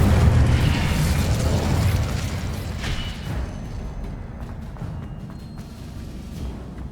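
An Incendio fire spell in Hogwarts Legacy bursts with a loud, roaring whoosh of flame that slowly fades into a crackling, rumbling tail.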